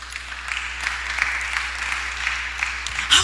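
Congregation applauds at a church discipleship training session, a steady moderate patter of many hands clapping throughout, ending with a louder sharp sound.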